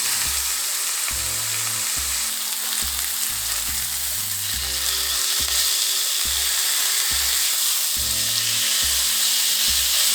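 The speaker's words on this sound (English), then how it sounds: "Fry for 3 minutes on each side." Meat fries steadily in hot oil seasoned with salt, garlic and pepper, giving a loud, even sizzle that runs throughout, with a soft music bed underneath.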